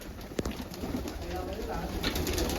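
Soft pigeon cooing rises from a noisy, busy background, with a brief sharp knock early on and voices murmuring nearby.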